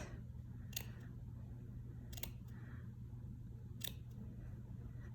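Scissor tips snip fringe into a strip of felt for an anemone flower, three short crisp cuts spaced about a second and a half apart, close and quiet over a steady low background hum.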